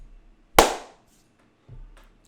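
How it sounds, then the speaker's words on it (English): A single sharp hand clap made to sync audio on a podcast, loud and close in a quiet room, with a softer thud following about a second later. "I feel like I should just clap again"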